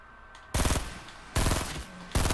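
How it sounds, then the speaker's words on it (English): Three loud bursts of rapid automatic gunfire from a gunfight in Fortnite Battle Royale, each burst about a second long, separated by short quieter gaps. "there's a gunfight over here to my south"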